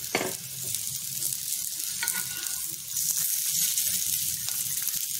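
Instant tikki patties shallow frying in oil in a pan, a steady close sizzle with a sharp crackle at the start, continuing evenly without talk.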